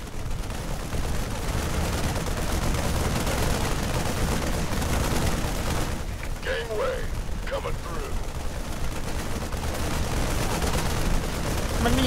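Continuous gunfire in StarCraft 2, a dense, loud, unbroken wash of rapid shots and mechanical clatter, with a brief voice heard partway through.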